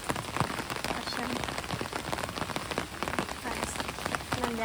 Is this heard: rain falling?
yes